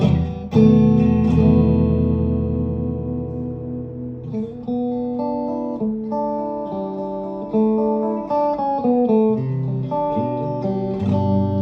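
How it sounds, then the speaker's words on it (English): Room reverb from an Electro-Harmonix Oceans 3-Verb pedal set subtly around ten o'clock, colouring a sustained played instrument with a short ambient tail across a continuous phrase of notes and chords, no voices. "This is actually the most subtle effect, the room reverb"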